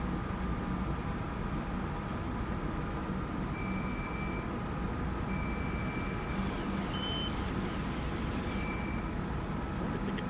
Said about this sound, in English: when I hear the AI trains beeping